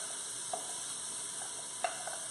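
Chopped celery, onions and peppers sizzle in a hot stewed tomato mixture, a steady close hiss with a couple of soft pops and stirring knocks, no voices.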